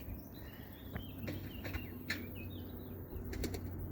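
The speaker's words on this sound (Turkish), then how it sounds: "Kuş sesleri şöyle." Several bursts of wing flapping from pigeons taking off nearby, with faint chirps over a quiet outdoor background.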